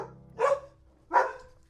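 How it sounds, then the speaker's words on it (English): Dogs bark twice, two sharp separate woofs about three-quarters of a second apart, fairly distant over a faint low hum, with no talking. "And now this brief intermission for barking dogs."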